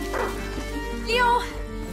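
A hunting dog in the video game A Plague Tale: Innocence gives a few short yips and whimpers under a steady musical background, with a voice talking over it.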